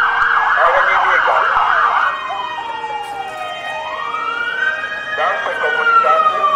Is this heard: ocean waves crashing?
no